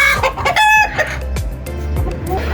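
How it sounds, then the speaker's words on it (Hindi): Several roosters cluck and squawk close by, with a brief crow-like call early on, busy and fairly loud throughout. "ये मुर्गे दोनों निकाल के जो है ये अंदर रखना चाह रहे हैं हम लोग"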